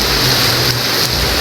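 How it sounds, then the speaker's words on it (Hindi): Heavy monsoon rain in Delhi pouring steadily outdoors as a loud, dense, continuous hiss and roar with no let-up. "बहुत तेज़ बारिश हो रही है।"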